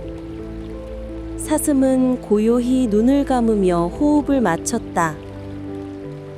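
Gentle flowing water murmurs softly and steadily in the background of a calm night scene, while a narrator speaks in a slow, soothing voice over it throughout.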